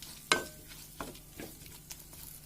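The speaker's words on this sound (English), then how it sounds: "I'm going to just fry it till the tomatoes are soft" Tomatoes fry in a pan with a soft sizzle, broken by a sharp utensil tap and a few short scraping strokes. Quiet and close, with no talking.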